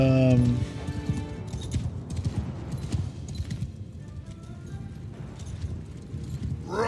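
Horses in the Old Realms Warhammer mod for a video game: rapid clip-clop of hooves and a whinny at the start, with battle noise, under other game sounds.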